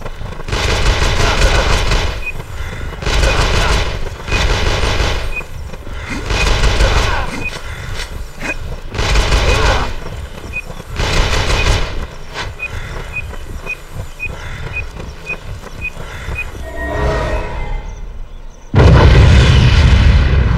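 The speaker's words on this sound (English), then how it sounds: "These motherfuckers don't stop shooting me." Repeated bursts of enemy gunfire in the X-Men Origins: Wolverine video game, loud and close, coming in waves with short pauses between volleys and a heavy blast near the end.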